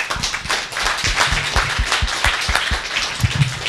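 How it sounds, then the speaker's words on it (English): A small group gives a round of applause for Kari after a talk about an AI guide, with distinct, fairly close claps that patter irregularly throughout. "So a round of applause to Kari."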